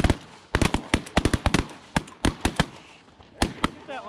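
Shotgun blasts fired during an early-season goose hunt in Wisconsin, a rapid, uneven volley of about twenty sharp, loud reports in quick clusters, close to the listener with no talking.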